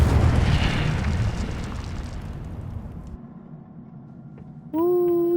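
Incendio fire spell cast in the video game Hogwarts Legacy: a broad roaring whoosh of flame and rumble that fades over several seconds, then a sustained tonal magical chime swells in at the end.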